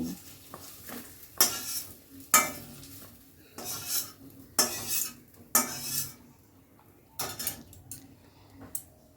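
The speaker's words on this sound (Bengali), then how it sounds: "অনবরত নাড়ছি। দেখুন, পেঁয়াজের কালারটা কিন্তু বেশ চেঞ্জ হয়ে গেছে।" A spoon scrapes and stirs through onions frying in a pan, repeated bursts of clattering over a soft continuous sizzle, close up with no voices.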